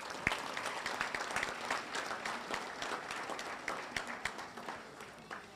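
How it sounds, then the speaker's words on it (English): An athletic banquet audience applauds in a steady, even stretch of clapping with some crowd murmur mixed in, at a moderate distance. "Y'all can give every one of them a round of applause now."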